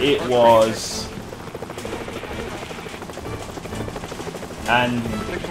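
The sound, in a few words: helicopter rotor and engine in a helicopter simulator video game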